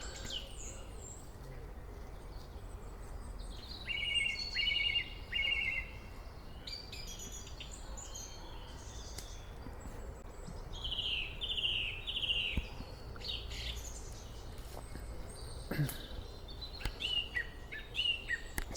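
Several birds sing during a dawn chorus walk, with bright chirping phrases rising in short bursts over a steady background hiss, moderately distant, insects or other faint calls mixed in.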